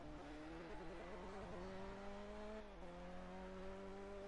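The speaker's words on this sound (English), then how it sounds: "So you could hear the difference in the revs with Jim and Holtman." A Renault Clio Cup race car engine revs hard through the corkscrew during a circuit race, a sustained droning note that climbs and shifts pitch as the driver works the throttle, heard from a distance.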